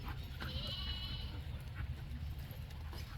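A sheep bleats a couple of times at a distance, faint over a steady low outdoor rumble.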